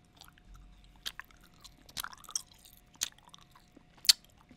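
Someone chews a Tootsie Roll candy up close for cowboy-themed ASMR, making soft, irregular sticky mouth clicks and occasional sharper bites over near silence.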